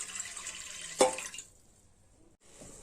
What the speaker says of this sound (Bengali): আমি এখানে পরিমাণ মতো সেদ্ধ করার জন্য জল দিয়ে দেবো।